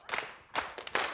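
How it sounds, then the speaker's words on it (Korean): Soldiers of an army unit in a barracks perform a rhythmic jajangmyeon clap, three sharp clustered bursts of hand claps spaced about half a second apart, close and crisp. "자, 짜장면 박수 준비."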